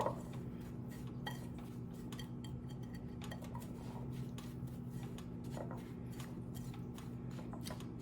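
Ingredients for fried green tomatoes being mixed in a bowl, with repeated quick clinks and scrapes of a utensil against the dish, close and fairly quiet, with no talk.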